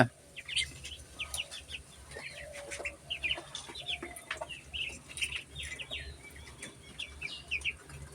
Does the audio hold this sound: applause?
no